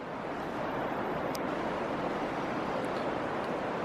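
River water rushing steadily along an Appalachian Trail stretch, a constant broadband roar close by with no pauses, heard on a grey morning upstream along the river's right bank.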